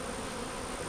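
During a hive inspection, a thick, even hum of many honey bees sounds up close in a short unbroken burst, with no talking.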